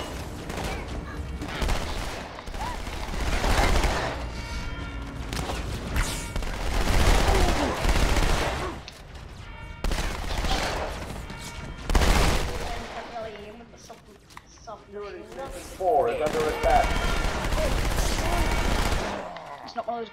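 Gunfire in Halo 2 Anniversary crackles in repeated bursts of rapid shots, loud and close, separated by short lulls, with a voice talking in between.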